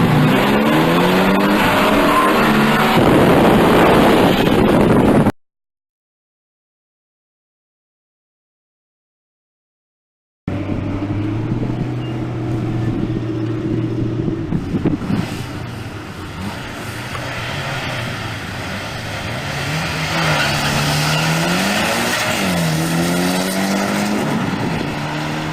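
A classic Corvette drag racing a turbocharged four-cylinder Eagle Talon: loud engines roar and rev, with rising and falling pitch sweeps as the cars accelerate, after a short stretch of silence.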